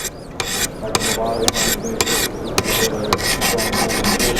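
Coarse stones on a Wicked Edge guided sharpener stroke a knife blade in quick repeated passes, each a loud, close abrasive rasp with sharp clicks between strokes.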